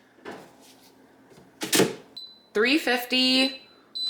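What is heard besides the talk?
air fryer being loaded and set, beeping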